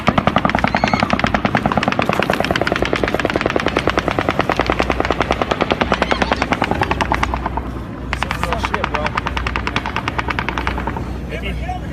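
Rapid, continuous automatic gunfire rattles close by over a droning, thumping helicopter, with shouted voices mixed in.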